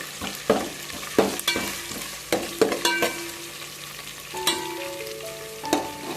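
Ginger paste frying in a pan is stirred with sharp utensil scrapes and knocks at an uneven pace, over a constant close sizzle.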